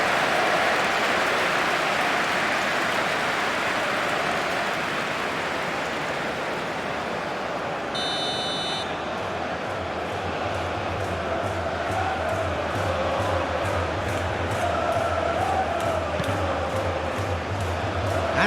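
A big football stadium crowd roars and applauds a shot at the World Cup final, a loud, continuous wash of cheering and clapping that swells and holds throughout, with a steady, rhythmic chant rising underneath in the second half.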